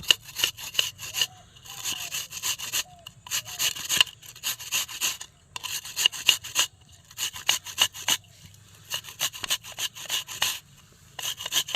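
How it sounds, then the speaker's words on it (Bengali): An onion rubbed against a grater for marigold flower pakoras, giving repeated rasping strokes in short bursts with brief pauses between, close and fairly loud with no talk. "এবার এই পেঁয়াজটাকে গ্রেট করে নেব"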